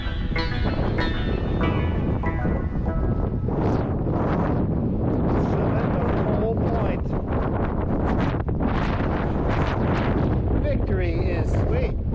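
Strong wind roars across the microphone on the summit of Cole Point in the San Gabriel Mountains, California, a steady loud buffeting rush that continues without a break and fills the whole stretch.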